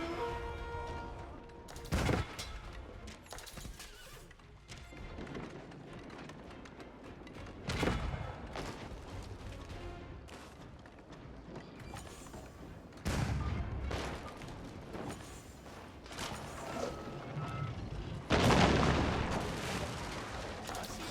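Cannons firing in an Age of Empires 4 battle, a string of heavy booms and blasts at irregular intervals over busy battlefield clatter, moderately distant.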